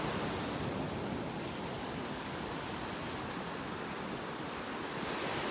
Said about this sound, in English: The water's getting really churned up.